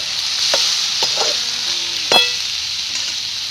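A spiced moong dal mixture with ground coconut and homemade masala of red chilli, turmeric and garam masala is stirred in a pan, giving a steady close hiss of sizzling with a few spoon scrapes and one sharper clink.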